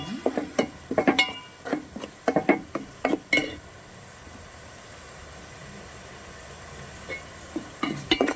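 Ginger garlic paste frying in a pan for a fish curry, a low sizzle under repeated sharp scraping and clinking of a spoon stirring against the pan, with a quieter stretch in the middle.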